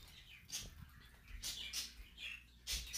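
Birds chirping outside on a morning, a few short bright calls scattered over a faint, quiet background.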